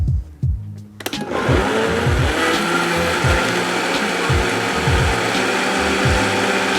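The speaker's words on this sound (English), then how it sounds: "And now is the fun part, we get to blend this bad boy." A countertop blender whirs loudly as it purées sweet potato with garlic, rosemary and nut milk, starting up after a few quiet seconds and then running steadily and close with a throbbing, pulsing rhythm.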